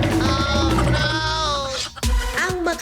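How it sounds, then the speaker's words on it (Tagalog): A carabao, or water buffalo, calls on a farm in Lubao, Pampanga, with loud sustained bellowing moos up close, then a brief break and a shorter rising call, heard alone over a steady background. "Kuya, yung kalabaw!"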